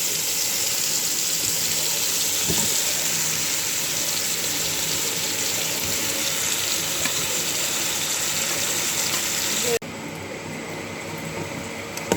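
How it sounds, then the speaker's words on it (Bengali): Meat dropped into a pan of lightly fried onions sizzles steadily and loudly for several seconds, with faint stirring scrapes, before the hiss abruptly drops to a quieter simmer near the end. "পেঁয়াজটা হালকা বাজা হয়ে গেছে এখন মাংসটা দিয়ে দিব"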